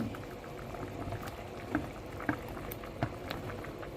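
Quiet bubbling of water boiling in a pot, with a steady low simmer and a few soft pops and clinks.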